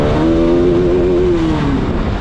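A Bajaj Pulsar RS200 motorcycle revs loudly, a close, steady engine roar with a rising and then falling whine held for about two seconds.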